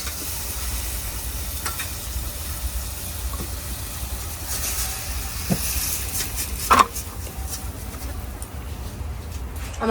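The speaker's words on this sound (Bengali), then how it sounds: "আমার তো ভাজি মশলার সাথে ভালো করে কষানো হয়ে গেছে" Vegetables frying with spices in a pan: a faint, continuous sizzle with occasional scrapes and a brief clank of stirring, close by, with no talking.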